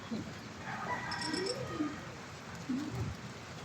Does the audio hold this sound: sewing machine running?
no